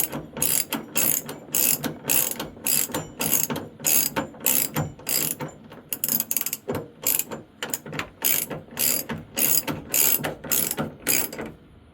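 A hand ratchet turns a Torx T40 socket on the tailgate of a 2015 Ram 1500, sounding as rapid bursts of close, crisp clicking in quick back-and-forth strokes for the whole stretch.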